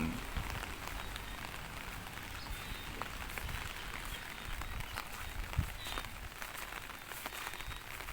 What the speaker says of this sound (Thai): ช่วงเช้า ฝน ตก ครับ เมื่อคืน ก็ตกตก ทั้ง คืน